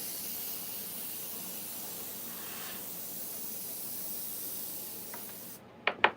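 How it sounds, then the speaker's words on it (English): Airbrush spraying paint onto chainsaw-carved wood pieces, a steady soft hiss running unbroken for several seconds, close and quiet, ending with a couple of sharp clicks. "Airbrushing is relaxing."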